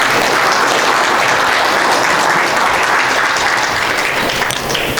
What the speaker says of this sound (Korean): 감사의 박수 좀 부탁드리겠습니다